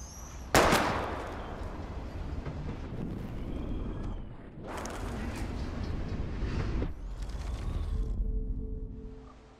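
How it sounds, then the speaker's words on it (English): Gunshots ring out at bottles in the video game Life is Strange, one sharp loud crack followed by sustained noisy bursts and rumbling that fade out near the end. "We're gonna shoot all these bottles without wasting a single bullet"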